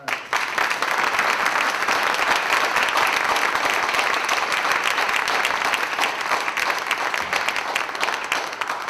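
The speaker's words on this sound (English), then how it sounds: "Let's give them a round of applause." Sustained audience applause at the 2023 NOMAS Symposium, a loud, dense and even patter of many hands clapping that holds steady for several seconds before easing slightly at the end.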